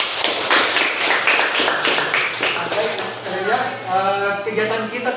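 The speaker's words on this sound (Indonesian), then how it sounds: "selamat untuk tepuk tangan dulu" Classroom applause from a group of students in a civics lesson, a dense patter of claps lasting several seconds at fairly close range and fading toward the end.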